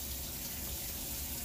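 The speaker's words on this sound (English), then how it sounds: "I start the water hose, put it up there." Hot water running steadily from a garden hose fed from inside a shower, a loud, constant broadband rush with no breaks and no talking.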